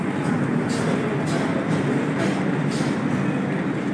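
A crowded Mumbai AC local train in motion gives a dense, steady rumble with regular clickety-clack wheel beats running throughout, heard from inside the carriage with no talking.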